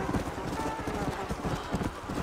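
Horse hooves clop in a rhythmic trot in Red Dead Redemption: Undead Nightmare, a steady close series of thuds with some muffled game sound behind them.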